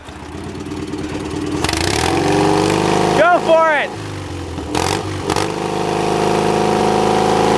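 A heavy tractor engine revs and roars up steadily during mudding, loud and close, with a brief high whine partway through and a voice speaking briefly over it.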